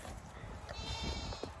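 Mini Nubian goats bleat in a goat pen, a few wavering, nasal cries rising over a busy, noisy background at close range.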